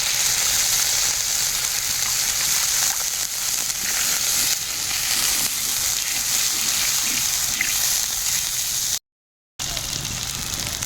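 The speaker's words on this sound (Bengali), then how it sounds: "এই মশলা ধোয়া জলটা দিয়ে দেবো আর একটু জল দিয়ে দেবো ওপর দিয়ে" Water used to rinse the spices is poured into a sizzling spice mixture in a pan while cooking hilsa fish with taro, giving a loud, steady hiss and frying crackle that runs continuously, with one brief drop to silence near the end.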